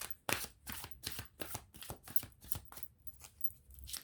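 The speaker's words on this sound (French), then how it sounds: "je vais ensuite prendre un autre tarot pour recouvrir mes cartes" Tarot cards handled and laid down in a rapid series of soft, papery slaps and shuffling flicks, close and quiet, with an irregular rhythm of about a dozen distinct card strikes.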